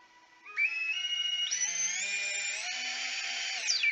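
Small electric motors of a 4-inch long-range drone spin up into a steady high-pitched whine that rises in pitch and holds, close by with no voices.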